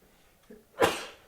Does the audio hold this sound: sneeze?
yes